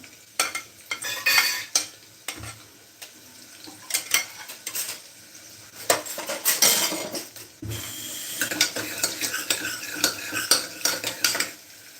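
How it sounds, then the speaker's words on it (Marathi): Chopped onion frying in hot oil in a home kitchen for chana amti, heard as soft sizzling broken by clinks and scrapes of a spoon stirring in the pan, fairly faint with bursts of stirring. "कांदा लालसर रंगणार येईपर्यंत त्यांना फ्राय करायचा आहे"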